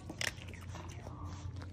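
A dog recovering from knee ligament surgery crunches on a sample of dry kibble: a few quick, close bites in a small burst, then soft chewing under a low room hum.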